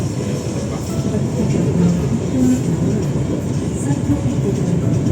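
A Jakarta commuter train in motion, heard from inside the carriage as a steady low rumble and rolling drone with faint rattles, running continuously at moderate level with no one speaking.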